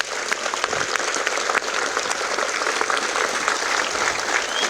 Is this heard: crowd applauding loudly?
yes